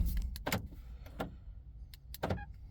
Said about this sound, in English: this is why we didn't hear it, because the door is actually open. So let's close it.